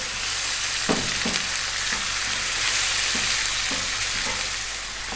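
Ginger garlic paste with onion and salt frying over above-medium heat, a loud continuous sizzle with regular spoon scrapes and taps about once a second, close by, no voices.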